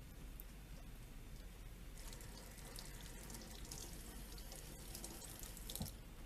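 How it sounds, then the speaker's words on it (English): Warm tap water runs steadily into a kitchen sink during hand washing, a soft continuous splashing hiss that stays even and fairly faint throughout, with no talking. "You're going to start by washing your hands with soap and warm water for at least 20 seconds"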